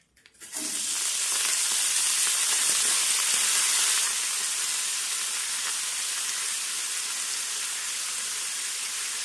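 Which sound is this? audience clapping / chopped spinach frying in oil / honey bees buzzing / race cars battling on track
chopped spinach frying in oil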